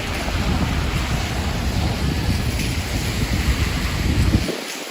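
Rain and wind during a New York City snowstorm make a heavy, steady outdoor roar with a deep rumble of wind buffeting the microphone, continuous and loud, with no voices.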